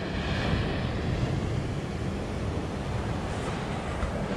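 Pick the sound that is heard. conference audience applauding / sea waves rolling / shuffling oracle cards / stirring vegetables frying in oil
sea waves rolling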